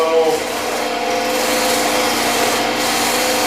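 A sander with a sanding disc runs steadily and close by, giving a continuous rough rubbing hiss with no breaks.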